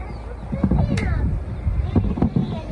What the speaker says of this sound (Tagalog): Medyo lumakas na yung hangin.